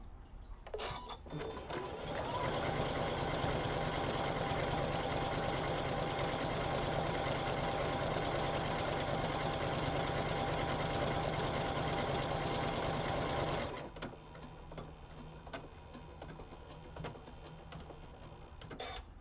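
An embroidery sewing machine starts up and runs at a fast, steady stitching rhythm for about eleven seconds, loud and close, then stops with faint handling noises after.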